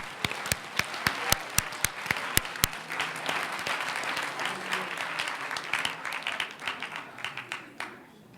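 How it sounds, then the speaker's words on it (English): A crowd applauds at a school board meeting, opening with several loud, sharp claps and settling into steady scattered clapping that gradually thins out. "Let's give her a round of applause one more time."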